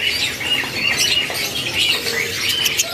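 Many canaries chirping and squawking together in a dense, continuous chatter, like a roomful of caged songbirds close by.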